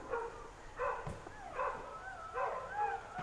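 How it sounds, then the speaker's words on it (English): Several neighbourhood dogs bark and yip in bursts at a moderate distance outdoors by a backyard fence, with rising whines between the barks. "That was a lot of dogs."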